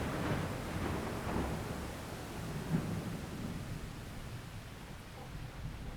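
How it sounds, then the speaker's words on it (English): A thunderstorm rumbles low and distant under steady rain-like hiss, with soft rolling swells of thunder and no voices. "Lightning and thunder scream across the sky over the Silkflight estate."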